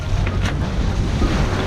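A sailboat plunging into a bigger wave at sea on a Western Caribbean crossing from Belize to Mexico, heard as a steady, dense rush of water and wind buffeting close by the microphone, with no voices.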